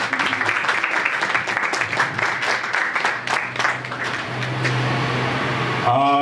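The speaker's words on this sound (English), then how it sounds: "let's get a little round of applause for everybody involved" A room of guests at a fantasy book launch applauds steadily, dense clapping that thins out over several seconds, with a low steady hum underneath and a brief clatter at the end.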